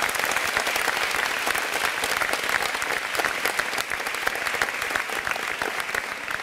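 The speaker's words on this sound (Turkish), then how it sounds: "Şimdi bir büyük alkış daha var." A studio audience at a television talk show applauds loudly and continuously, a dense wash of clapping that holds steady for several seconds.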